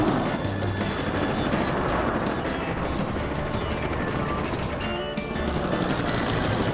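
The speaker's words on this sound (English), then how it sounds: "Hurry, Super Helicopter" A cartoon helicopter flies past with a loud, continuous rotor whir, layered with bright whooshing and zinging effects and a brief clatter near the end, all dense and close with no talk.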